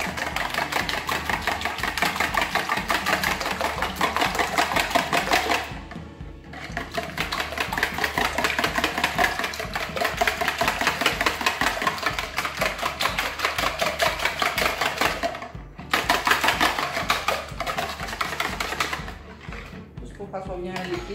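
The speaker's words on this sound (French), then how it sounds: "Vous allez prendre votre fouet et fouetter votre mélange." A whisk beats a quiche mixture in a bowl with a steady, rapid rhythmic clatter that runs close and loud throughout, pausing briefly twice before resuming.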